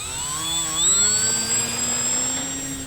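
A HobbyKing Tuff Trainer II RC plane with no tail wheel taking off from a grass field, its electric motor whining steadily and rising in pitch, loud and close.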